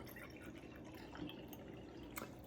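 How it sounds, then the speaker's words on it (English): 300 milliliters of water poured into a glass mason jar gives a faint, steady trickle and splash with soft dripping, sounding quiet and close with no voices. "I'm going to dump my 300 milliliters of water into my mason jar"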